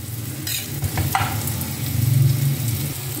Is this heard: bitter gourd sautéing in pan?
yes